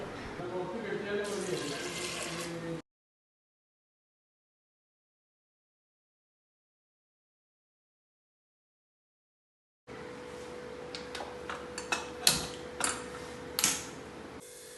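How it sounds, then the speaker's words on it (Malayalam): Water runs and splashes into a pressure cooker for cooking green gram payasam, then a long silent gap, followed by more pouring with clinks and knocks of the vessel. "ഇനി ഇതിന് രണ്ട് കപ്പ് വെള്ളം കൂടെ ഒഴിച്ചു കൊടുക്കുന്നുണ്ട്"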